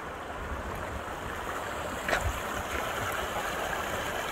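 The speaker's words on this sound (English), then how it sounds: "the water running down this mountain," A mountain stream outside Yellowstone rushes steadily downhill, a soft continuous broadband wash of flowing water heard from nearby, with one brief brighter splash partway through.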